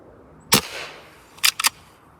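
Sharp pneumatic cracks from a Hatsan Vectis air rifle fitted with a Huma regulator, one crisp shot followed a second later by a tight cluster of three, each a short bright snap with little echo.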